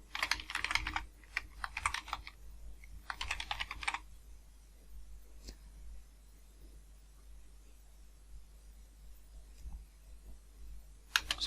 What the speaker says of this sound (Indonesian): Bawahnya lagi kita ketik